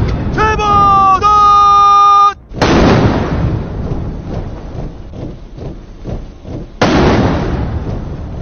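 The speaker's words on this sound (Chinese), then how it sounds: "56门礼炮" Artillery gun salute of 56 cannons at a national parade marking a 70th anniversary, heard as booming volleys: a held tone first, then a heavy burst around three seconds with rumbling echo, and another loud blast near the end.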